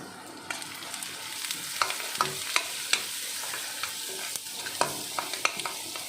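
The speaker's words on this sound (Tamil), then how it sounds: "நல்லா வதக்குங்க" Dried fish curry base with turmeric powder and crushed garlic sizzling in a pan, with a close, steady frying hiss broken by repeated sharp scrapes and taps of a spoon stirring, no voices.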